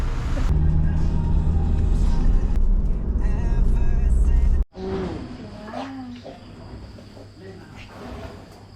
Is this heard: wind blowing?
no